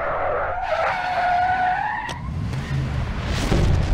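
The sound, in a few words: Batmobile driving and skidding in Mortal Kombat vs DC Universe video game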